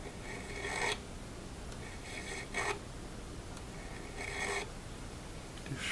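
Spot sanding on an old Kraftsman mandolin under restoration: three separate bursts of dry, raspy rubbing, each about a second long, close up over a steady low background hiss.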